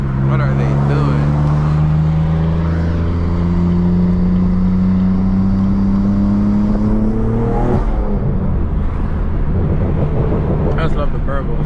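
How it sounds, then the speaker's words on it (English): A manual BMW M3 engine and exhaust burble and drone steadily while driving, the engine note rising and falling with throttle, loud and close from inside the car, with people talking over it. "I just love the burbles."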